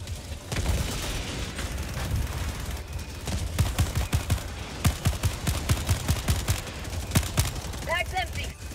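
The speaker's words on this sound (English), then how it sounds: "Hurry up, sentry. Fire at them motherfuckers!" Sentry gun firing in Helldivers 2 against Automaton enemies, rapid bursts of loud sharp shots and booms in dense succession for several seconds, with a voice calling out partway through.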